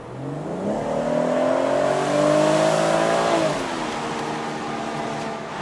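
A 2019 BMW 440i convertible's six-cylinder engine pulls steadily with the top down, its tone climbing smoothly as it accelerates and then easing back to a lower, even cruise, close and clear with no talking.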